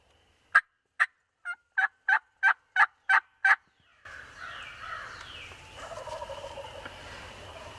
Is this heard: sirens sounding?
no